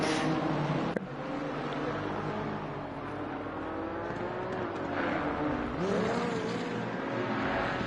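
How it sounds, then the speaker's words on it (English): Race car engine in a PS5 racing game at Oulton Park, a sustained loud roar with rising and falling revs as a car accelerates hard, layered over other engine noise. "someone just took off hard in a car"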